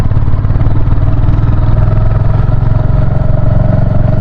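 A Royal Enfield Hunter 350 motorcycle engine drones steadily and loudly in low gear while climbing a zigzag mountain road, with a constant thumping exhaust and wind rush close to the rider.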